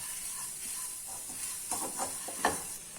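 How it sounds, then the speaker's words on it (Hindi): Spices stirred into a sizzling curry paste for kaju curry in a pan, a constant hissing fry with a few soft scraping strokes near the end, close and without talk. "अब इसे अच्छे से मिक्स कर लेती हूँ"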